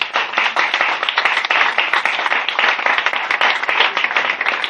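A church congregation claps and applauds in praise of the Lord, a dense, loud, continuous burst of many hands sustained throughout with no talking.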